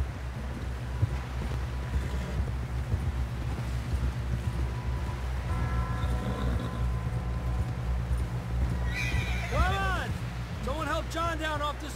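Galloping horse in Red Dead Redemption 2, a rapid hoof rhythm under steady wind and ambient noise, with spoken dialogue over it and a burst of higher sounds near the end.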